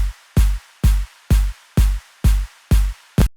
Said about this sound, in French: Donc si je vous mets uniquement les drums comme ça.